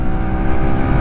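Lexmoto RSS Street 125cc motorcycle engine pulling steadily in fifth gear at fairly low revs, a continuous loud drone with wind rush throughout, no talking.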